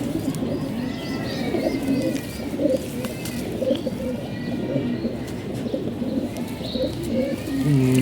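Racing pigeons in a rooftop loft cooing steadily, several soft low coos repeating close by over a background hum, with faint chirps from other birds.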